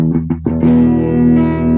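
Electric guitar in standard E tuning with a touch of reverb: a few picked notes, then a sustained ringing chord, loud and close with no talking.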